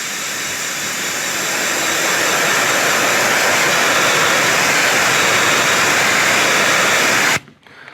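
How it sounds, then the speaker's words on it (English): A pressure washer rinses out a car-detailing brush with a loud, steady roaring hiss of spraying water that holds close for about seven seconds and then cuts off abruptly. "So I'm just using the pressure washer to rinse out my brush."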